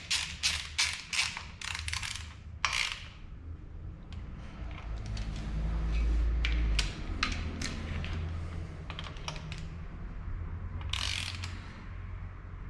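A ratchet clicks in quick bursts while a bolt is tightened on a custom alternator relocation bracket for an Ecojet build, with a low rumble underneath and further scattered mechanical clicks later on.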